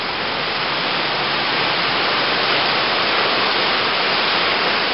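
Rushing water of a flooded Ridley Creek after a night of rain, a loud, dense, unbroken roar that holds steady throughout with no voices.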